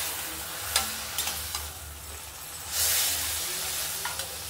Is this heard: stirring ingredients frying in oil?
yes